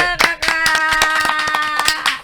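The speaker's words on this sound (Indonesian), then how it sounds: "Tepuk tangan lu dong." Short run of sharp hand claps, roughly a dozen quick, evenly spaced slaps, close and fairly loud, with a sustained tonal musical backing underneath and no talking.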